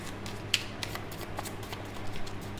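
Tarot cards being handled and shuffled nearby in short, soft papery riffles and flicks, with one sharper snap early on, over a steady low hum and no talking.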